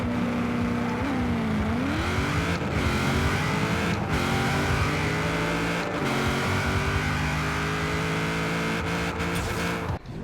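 Buick Regal engine in Forza Horizon 4 revving hard and steadily at a drag-race launch, the pitch dipping and climbing with gear changes, loud and continuous for about ten seconds with no talk.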